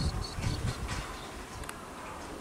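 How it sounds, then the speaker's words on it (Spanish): Horseflies buzz in low droning bursts around a horse outdoors, loudest in the first second and then easing to a steadier faint hum. "Los tábanos están terribles."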